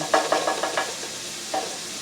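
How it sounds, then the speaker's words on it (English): Chopped onions sautéing in a pan for meatloaf give a steady close hiss, broken by a quick run of four or five soft stirring scrapes and one more after a short pause. "I'm going to let these onions saute for about another 3 to 5 minutes"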